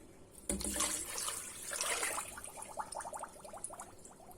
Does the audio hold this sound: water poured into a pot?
yes